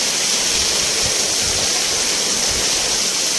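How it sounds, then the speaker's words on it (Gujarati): Heavy rain pours down on clay roof tiles in windy weather, a loud, dense, unbroken hiss that fills the whole stretch with no voices. "વરસાદ આવી ગયો છે"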